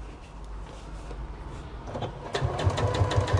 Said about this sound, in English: I'm just going to top stitch again.